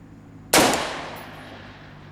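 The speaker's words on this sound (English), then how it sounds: "First round on the bigger one of the Ritec brake." A single gas gun rifle shot fired through a Ritec muzzle brake, one sharp loud crack followed by a long fading outdoor echo, then a faint metallic tick.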